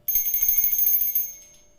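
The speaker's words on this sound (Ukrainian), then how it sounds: "Ось дзвоник. Він дуже весело грає" A small handheld bell rings in rapid, bright jingling strokes for about a second in a kindergarten music lesson, then its ringing decays and fades away; no one talks over it.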